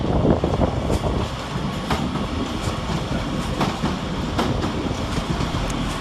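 Northern Rail Class 331 electric units move through Manchester Piccadilly station, with a loud, steady rumble of wheels on track and repeated clickety-clack beats over rail joints, close by and without talk.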